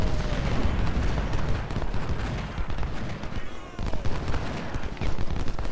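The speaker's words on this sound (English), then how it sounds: "Down here these units are getting shelled by our artillery." Artillery shelling of units in the Civil War strategy game Ultimate General: Civil War during the Battle of Richmond, a dense, loud, unbroken stream of cannon booms and battle noise.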